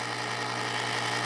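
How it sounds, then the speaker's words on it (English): A 1940s ManSon small lathe made in California runs under power feed, its carriage creeping slowly toward the headstock; a steady, close mechanical whir and hum holds evenly throughout with no voices. "The carriage is feeding toward the headstock as we speak at a very slow rate of speed"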